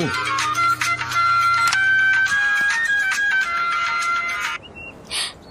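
A phone's electronic ringtone melody plays on speaker for several seconds, then stops, followed by a brief faint tone and a short blip.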